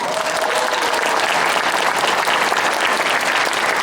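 A crowd claps loudly and steadily, dense applause sustained without a break and no voices standing out.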